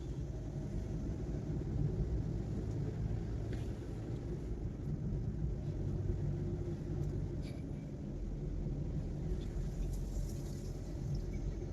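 A bus engine on the Ponmudi hill road in Kerala gives a steady, fairly loud low rumble that holds for the whole stretch, with no voices over it.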